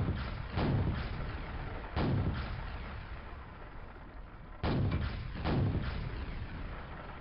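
Rockets launched in Quake, heard as three heavy booming blasts spaced a couple of seconds apart, each a deep thudding burst that rings out and decays, loud and close with no talk.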